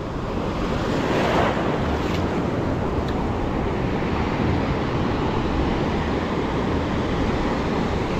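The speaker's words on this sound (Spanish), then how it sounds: "Las olas están medias buenas, grandes." Large ocean waves breaking on a sandy beach with small stones, a loud continuous roar of surf mixed with heavy wind buffeting the microphone.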